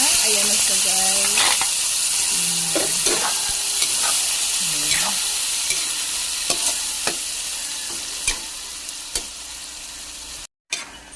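Boiled pork for menudo sautéing in a pan, a steady sizzle with a spatula scraping and clacking against the metal in repeated strokes, close and alone.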